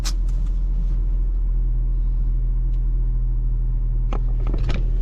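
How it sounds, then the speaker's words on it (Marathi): A car engine idles with a steady low rumble after starting, loud and close, with a few brief clicks and knocks over the constant hum and no talking. "गाडीला स्टार्टर मारलाय"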